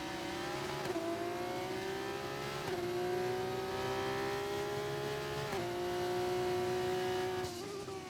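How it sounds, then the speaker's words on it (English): Formula 2 race car engines from the F1 24 video game at the Imola circuit, a continuous high-pitched wail with several gear-shift dips and rising revs, loud and steady throughout with no talk. "We're using the F2 cars, obviously."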